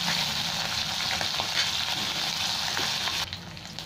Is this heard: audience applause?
no